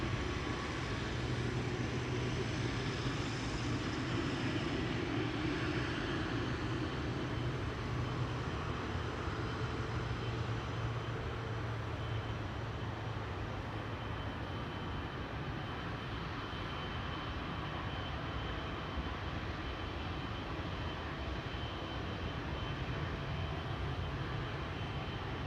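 Emirates airliner turning onto the runway for takeoff at Amsterdam Schiphol, a steady, fairly distant engine roar that holds for the whole stretch with no talk over it.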